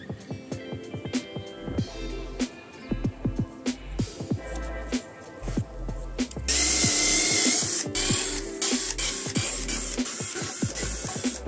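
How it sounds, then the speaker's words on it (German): A power drill bores holes into an old, rotted wooden railing during restoration. It comes in short repeated bursts, then settles into a longer, louder continuous run near the end, with no talking. "jetzt brauche ich auf jeden Fall noch die Löcher für die Verstrebung"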